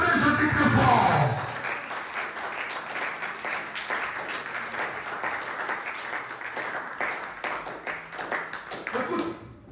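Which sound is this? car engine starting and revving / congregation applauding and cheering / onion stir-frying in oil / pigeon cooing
congregation applauding and cheering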